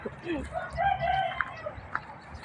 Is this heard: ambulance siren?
no